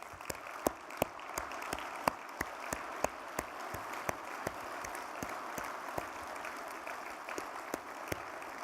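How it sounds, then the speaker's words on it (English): Faint, distant round of applause from an audience at a farm bureau annual meeting, with sparse individual claps standing out sharply in a steady rhythm. "I'd like to give them a round of applause"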